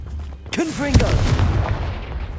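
A Confringo blasting spell cast in Hogwarts Legacy bursts out as a loud, close explosive boom with a sharp whooshing tail and rumbling after-echo, heard alone.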